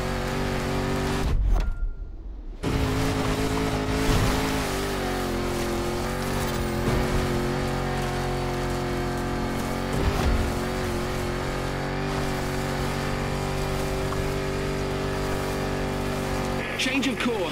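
A Land Rover Defender's 400-horsepower engine drives steadily in The Crew Motorfest, a continuous loud, droning rumble with a brief drop near the start, while people talk over it.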